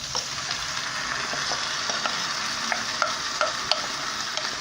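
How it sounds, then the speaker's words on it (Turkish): Tomatoes sizzle and fry in a clay güveç pot, with a spoon scraping and stirring in soft, irregular clicks over a steady close hiss. "Domatesimizi ekliyoruz."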